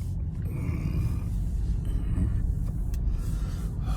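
Steady low engine rumble and road noise from a car driving along, constant and close throughout with no other sounds standing out.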